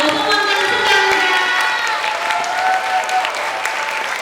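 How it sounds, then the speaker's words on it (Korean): Audience applause fills a hall at a sixth-grade elementary reading debate contest held at Olympic Parktel, steady dense clapping with scattered voices and faint cheers throughout. "자, 아까처럼 큰 박수로."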